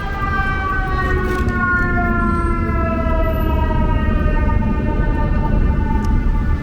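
A fire truck siren wails steadily and loudly in traffic on 125th Street in Harlem, New York, its rising and falling tone sounding close and continuous over the city street noise.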